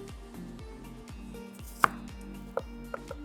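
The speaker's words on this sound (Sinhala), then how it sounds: "ලුණු ගෙඩිය කපාලා මම ටිකක් ලොකුවට කැපුවේ" A large onion chopped with a knife on a board for a fried chicken dish, giving a quick steady series of close, crisp thuds with a few sharper knocks, without any talk.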